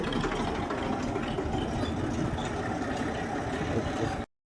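A tractor engine idles steadily, a dense low rumble that holds at a constant level for about four seconds before cutting off abruptly.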